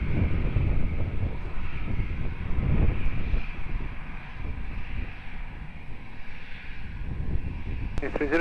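Airplane taking off at Lisbon Airport: a broad, steady engine roar with wind rumble, continuous and fairly loud, with voices faintly mixed in.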